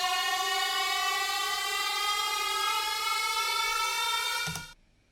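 A synthesizer patch imitating a fire truck siren with spinning tires: a bright, sustained, buzzy tone rich in harmonics that holds steady and then cuts off abruptly just before the end.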